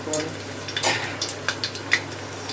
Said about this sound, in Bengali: ফোড়নটা একটু তেলে ভেজে নেব।